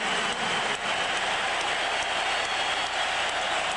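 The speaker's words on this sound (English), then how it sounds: "a standing O from the sellout crowd here at the back" A sellout crowd at a baseball ballpark rises in a sustained standing ovation, with dense, steady applause and cheering filling the air from start to finish.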